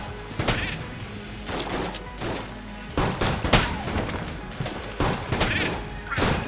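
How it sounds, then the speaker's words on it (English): Exploding weapon shots crack and thump in quick bursts of several loud blasts from the Enter the Gungeon video game, with short gaps between volleys. "Oh, and they explode."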